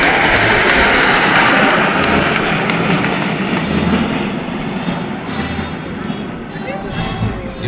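Patrouille de France jets fly in airshow formation at Coulommiers, a loud sustained roar that fades somewhat as they pass, with an announcer talking over it.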